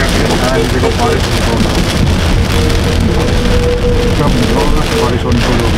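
Light rain patters steadily on a Toyota Corolla Altis during a drive toward hilly country, a dense close hiss of drops mixed with road and wind noise, with faint talk inside the car.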